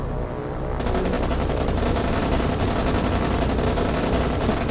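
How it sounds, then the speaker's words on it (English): Aircraft in the naval combat game War on the Sea unleash a loud, unbroken stream of rapid cannon fire. The shots merge into a dense, continuous rattle for several seconds. "That's a lot of cannon fire."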